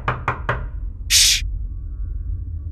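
Three quick sharp knocks on a door, close and loud, followed by a brief hissing burst, with no voices.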